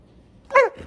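A husky dog gives a single short, loud bark close by, with a faint trailing whine after it.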